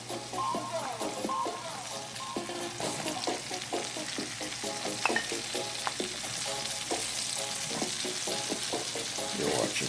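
Onions frying with garlic in a hot pan for a pineapple pork shoulder ham dinner, a steady close sizzle with stirring and scraping clatters throughout, growing slightly louder toward the end.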